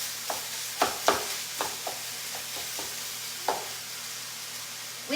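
Lean 90/10 ground beef browning in a pan, with a steady soft sizzle and repeated scraping stirs at irregular intervals.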